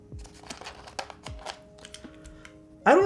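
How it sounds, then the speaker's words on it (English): Soft, muted keystrokes on a Molly60 mechanical keyboard: a scattered run of gentle clicks at close range, closing with a brief louder burst. "this is a super soft typing experience"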